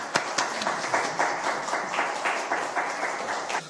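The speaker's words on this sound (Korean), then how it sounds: "우리 나오실 때 박수로 환영하겠습니다." Applause welcoming a lecturer to the stage at a church evangelism seminar, a steady patter of clapping from a modest audience with small rhythmic swells, moderately close and without talk.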